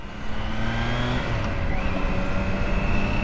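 Triumph Trident 660 cc three-cylinder motorcycle, 2025 model, running with a steady loud engine drone and a faint rising whine, mixed with road rumble and a brief shift in pitch partway through.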